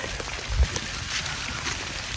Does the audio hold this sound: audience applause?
no